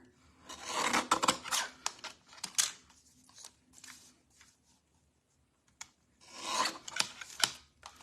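Card stock being trimmed for a handmade greeting card, with bursts of rasping cuts in short clusters, a pause in the middle, then another run of scraping cuts, close and fairly quiet.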